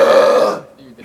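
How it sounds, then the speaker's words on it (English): A long, loud belch lasting about half a second, rough and tonal, then trailing off into quieter breathy sounds. "Do a long belch."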